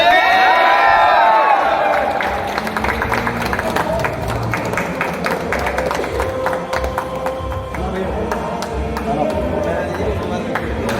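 Audience applause at a crowded indoor gathering, scattered sharp claps building into a rhythmic clapping crowd, with voices and a loud announcer-like speaker talking over it throughout.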